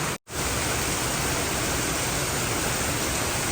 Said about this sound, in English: On the other side of a waterfall.